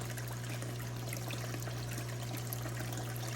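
Water flowing over a gold prospecting sluice mat fed by a plumbed-in hose, a steady faint trickling rush with a constant low hum beneath, no talking.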